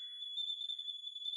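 A piezo buzzer in a simple light-dependent LDR circuit run from a 9V battery gives a thin, steady high-pitched electronic tone that wavers slightly, faint and alone.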